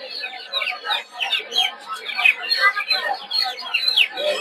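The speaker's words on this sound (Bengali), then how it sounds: "কিছু মুরগি দেখতে পাচ্ছেন, বিভিন্ন ধরনের বিভিন্ন মিউটেশনের মুরগি।" Chickens of various breeds, including silkies, cluck and chatter at a busy weekly poultry market in Narsingdi, with a continuous overlapping chorus of close, lively bird calls.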